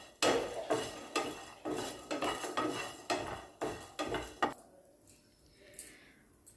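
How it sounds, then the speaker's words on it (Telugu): Cashews and coriander seeds land and are stirred in a pan for a masala stuffed brinjal curry. About a dozen sharp, close clatters of spoon on metal come in a rough rhythm, then fade to quieter scrapes. "ఇప్పుడు జీడిపప్పు వేసుకోవాలి. ధనియాలు కూడా వేసుకోవాలి."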